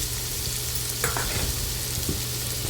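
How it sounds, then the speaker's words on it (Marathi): Finely chopped onion sautéing in hot oil for egg bhurji, a steady close sizzle with a couple of brief scraping stirs of a spatula partway through, no voices. "कांदा व्यवस्थित परतून घ्यायचा आहे"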